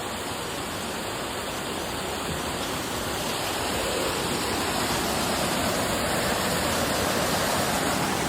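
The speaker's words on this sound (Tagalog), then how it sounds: "dito naman kami ngayon sa may Digisit Falls" Digisit Falls in Baler, Aurora, pours as a steady, loud roar of rushing water, a dense unbroken wash heard up close with no voices over it.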